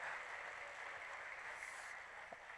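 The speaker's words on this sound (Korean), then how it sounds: "손 안 드신 분이 박수 쳐주시기 바랍니다." A church congregation at a prayer meeting claps together, a soft even spread of many hands heard at a distance, faint and continuous without a clear peak.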